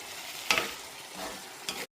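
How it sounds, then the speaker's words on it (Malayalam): Water poured into beef curry frying in a pan, a brief, quiet hiss and sizzle with a couple of stirring scrapes, close by. "ഇനി ഇതിലേക്ക് ഞാൻ 1 കപ്പ് വെള്ളം ഒഴിക്കുകയാണ്"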